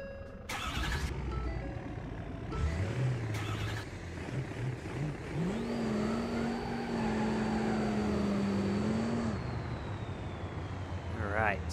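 2010 Ford F-350 truck in the BeamNG Drive driving game, an engine starting and revving up and down, with the pitch rising and falling as it drives, beneath someone talking.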